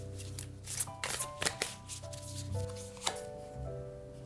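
Tarot cards shuffled by hand during a holiday pick-a-card reading, a close, quiet run of riffling and sliding strokes with several sharp flicks, no voices.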